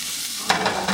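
Onions, peppers and mushrooms fry in a hot pan with a loud, close, bright sizzle that swells sharply halfway through as the vegetables are stirred, with no voices.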